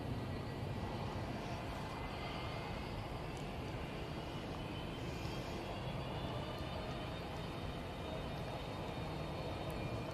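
A Ryanair airliner departing for Ibiza, a steady broad engine roar holding at moderate, even loudness throughout with a faint high whine, no voices.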